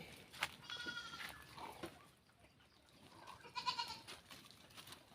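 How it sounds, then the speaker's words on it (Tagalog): Goats bleat on a farm in a few harmonic calls, a cluster near the start and another later, with rustling and outdoor background between. "Binibida ni Archie yung kambing niyan."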